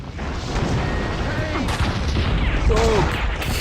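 Explosives detonating through a room in Max Payne 2, a dense, continuous roar of blasts and crackling debris at close range, with shouted voices partly mixed in.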